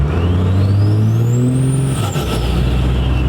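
A diesel truck accelerating hard from about 40 mph and 1500 RPM, heard as a loud, close engine roar with a rising whine that climbs for about two seconds before backing off.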